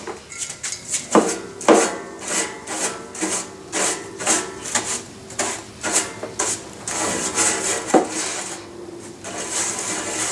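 Rubbing and brushing noises as an air mover is dusted off before painting, a run of close, irregular scraping strokes with short rasping bursts and no talk.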